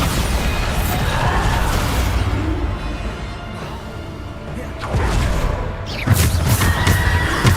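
A Bombarda spell explodes during combat in the Hogwarts Legacy video game. Heavy booming bursts cut through dense, continuous game noise and music, with voices mixed in.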